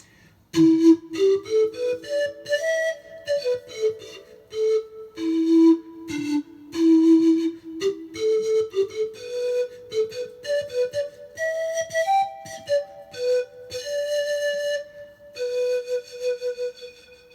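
A Sanka, a bamboo pan flute, plays a clear, breathy melody of stepwise notes up close, with each note carried on a soft airy attack and no voices over it.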